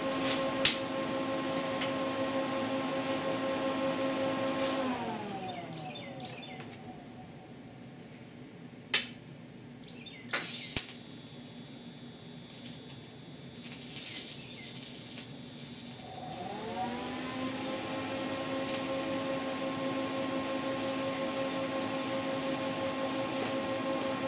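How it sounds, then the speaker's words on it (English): Welding a fabricated patch panel onto a severely rusted, thinned core support of a 1969 C10 truck; steady buzzing crackle of the welder runs throughout, with a quieter pause midway marked by a few sharp ticks before the welding resumes. "Let's weld that on up."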